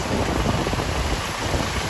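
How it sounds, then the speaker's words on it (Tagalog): Heavy rain in Makkah, Saudi Arabia, pours down as a dense, loud, unbroken wash of noise, with rushing, wind-buffeted hiss and no voices. "Lakas na ng ulan dito guys oh."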